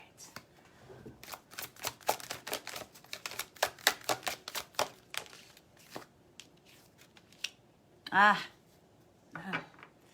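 Large, stiff tarot cards are riffled and snapped in a rapid series of sharp clicks, then a couple of short vocal sounds break in near the end.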